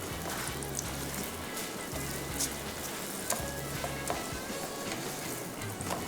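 A whole wheat paratha fries in ghee on low heat, giving a steady, fine crackling sizzle that stays even throughout, with no talk over it.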